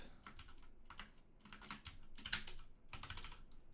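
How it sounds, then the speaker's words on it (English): Someone types on a computer keyboard while working on a game, producing quiet, uneven bursts of rapid key clicks with short pauses between them, heard alone. "It's always unsettling when I start typing and I don't see anything happening."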